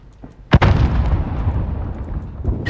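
A grenade blows up during a Call of Duty search-and-destroy match: one sharp, loud blast followed by a long rumbling tail of debris and echo that fills the rest of the moment.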